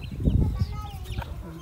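Chickens and chicks cluck and peck as they eat. Several close, short clucks overlap in a brief burst.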